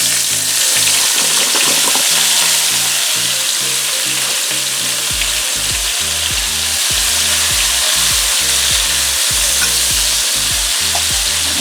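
Onion slices fry in half a cup of oil over medium heat, giving a loud, steady sizzle and crackle that runs close and unbroken throughout with no talking.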